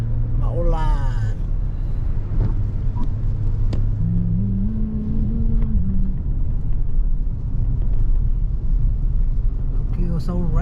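A car driving on a highway in heavy rain, with a steady broadband roar of rain and tyres on wet road under a low engine rumble, while a voice speaks at intervals over it.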